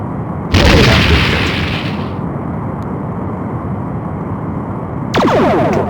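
Starship weapons blasts and explosions in a Star Trek: The Next Generation – A Final Unity game, two loud booming bursts over a steady low rumble, the first decaying slowly and the second arriving with a crackling burst.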